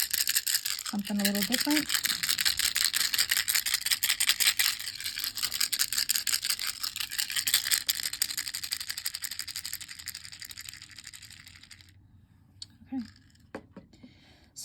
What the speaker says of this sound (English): So today I'm just gonna rattle with my rattle, a beautiful bear-shaped rattle.